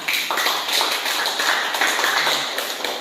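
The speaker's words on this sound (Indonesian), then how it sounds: "Ya, tepuk tangan semua." Students in a classroom clap their hands after a group presentation, a fairly close, irregular patter of claps lasting a few seconds.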